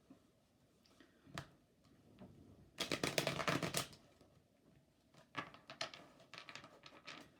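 Tarot cards being shuffled and drawn, with soft riffles, taps and one louder rapid flurry of card slaps, close and dry with no talking.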